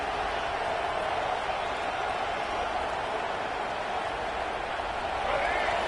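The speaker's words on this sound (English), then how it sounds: "Listen to the crowd energy here in the early going." A steady, dense roar of a large stadium crowd in a college football video game, continuous and even throughout, with no clear voices standing out.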